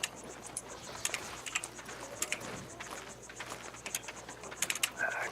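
Typing on a computer keyboard while searching in the game Albion Online, a quiet run of quick, irregular key clicks with no talking.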